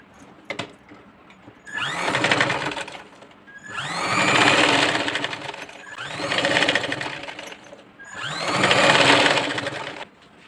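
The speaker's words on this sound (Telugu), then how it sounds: "మనం మళ్ళీ ఒక కుట్టించుకుందాం స్టిచ్చింగ్ చేస్తా ఇప్పుడు పైన" A sewing machine stitches a princess-cut blouse in four long, steady whirring runs separated by short pauses, close and loud with no speech.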